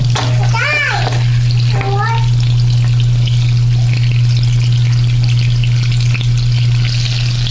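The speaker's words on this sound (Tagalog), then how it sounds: "put the garlic and onion. After that, wait until the color brown" Garlic and onion fry in a pan for ginataang hipon, a loud, continuous sizzle over a low, steady hum, with brief high voices near the start.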